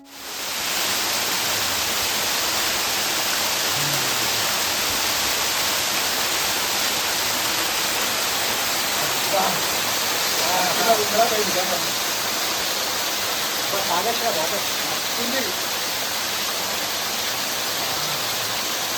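A blue waterfall deep in a restricted forest roars as a steady, dense broadband rush throughout, with faint voices briefly surfacing beneath the water noise midway.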